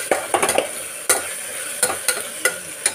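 Ginger garlic paste sautéing in oil for vegetable biryani, with repeated sharp metal spoon strikes and scrapes against the pan over a soft background sizzle, close and fairly loud.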